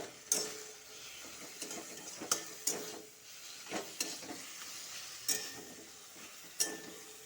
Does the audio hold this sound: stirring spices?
yes